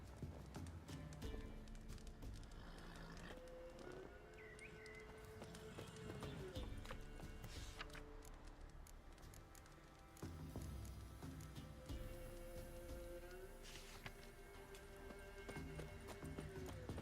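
Roach, a horse in the video game Witcher 3, clip-clops along in a steady rhythm of hoofbeats and snorts once or twice, heard close under game music, while a person talks at times.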